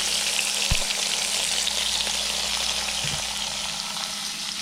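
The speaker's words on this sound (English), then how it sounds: "Grilling baby back ribs." Baby back ribs cooking on a George Foreman grill with a little olive oil, producing a steady, dense, close hiss of sizzling with a couple of soft low bumps, alone without talk.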